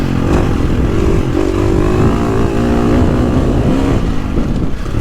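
A 350cc motocross dirt bike engine runs loud and steady close by, its four-stroke drone rising and falling slightly with throttle, with no voices over it.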